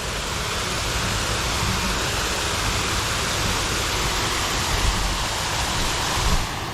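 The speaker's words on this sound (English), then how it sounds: "Surprisingly, there's water flowing." Water pours over a waterfall in the gardens and grounds of Ringwood Manor, a steady, full rushing roar that stays loud and even throughout with no voices.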